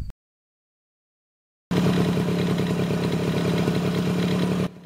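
A two-stroke fuel-injected motorcycle engine starts abruptly after a short silence and runs at a steady idle, with a close, rattling, buzzy note that continues for about three seconds.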